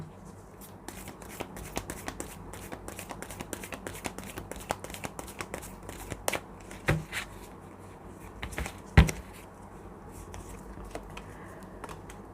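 Tarot cards being shuffled by hand make a soft, steady riffling and flicking close by, with a few sharper snaps of cards near the end and no talking.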